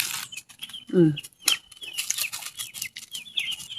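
Chickens squabble over fallen fruit, clucking and squawking in a brief, scrappy commotion with wings flapping, interrupted by a short sharp bird cry, close by and fairly lively.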